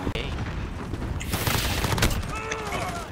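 Video game gunfire and blasts rattle continuously through a chaotic online shooter match, a dense wash of shots and booms with a faint voice mixed underneath.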